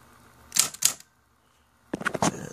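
A Royal Apollo 10 electric typewriter clacks through two sharp key strikes, pauses, then fires off a quick burst of several more close, crisp strikes.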